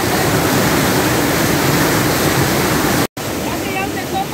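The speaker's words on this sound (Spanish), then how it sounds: "Ha crecido el río mucho." A swollen river rushes after rising, giving a loud, continuous roar of churning water close by that fills the whole clip, broken only by a momentary cut before the torrent resumes.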